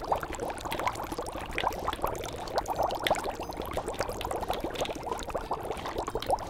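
Noodles go into hot soup and get stirred, making a busy, close bubbling and sloshing of liquid that rolls on steadily with small splashy bursts.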